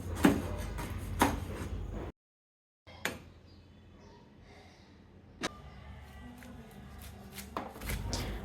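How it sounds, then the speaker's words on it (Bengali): A knife cuts raw jackfruit into pieces with a few sharp, quiet chops. Short silent gaps separate the strokes, and scattered cuts follow later, close up in a quiet kitchen. "একইভাবে সম্পূর্ণ কাঁঠালটা কেটে নিতে হবে।"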